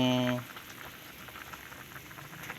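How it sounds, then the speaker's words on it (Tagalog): A pot of water bubbles at a rolling boil for cooking tilapia heads, soft popping and hissing, after a brief tonal beep at the start. "Kumukulo na."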